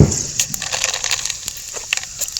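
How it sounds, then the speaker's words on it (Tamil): Mustard seeds hit hot oil while a village-style country chicken fry is being cooked. They crackle and spit in a dense, irregular burst of sharp pops that is loudest at the start and then settles into scattered sputtering. "கடுகு இருக்குது, நிறையாவே போட்டுப்போம்."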